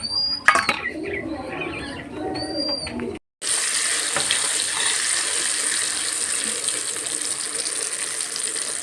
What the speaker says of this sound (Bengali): ফাইনালি মাংস ধোয়া টোয়া কমপ্লিট